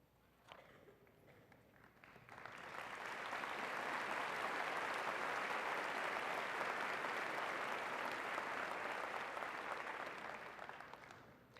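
Applause from a university spring commencement audience as faculty and staff stand, swelling quickly into loud sustained clapping from a large crowd that holds steady and then begins to taper off.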